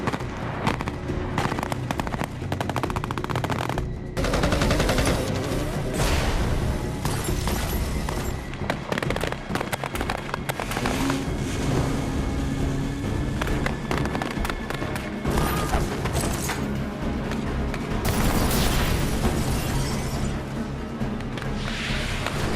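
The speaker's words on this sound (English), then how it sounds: "We're gonna load all our weapons, we're gonna fire everything," Blank-firing weapons on a film set unleash a loud, relentless barrage of gunfire mixed with explosions, with overlapping rapid bursts and heavy booms that run without pause.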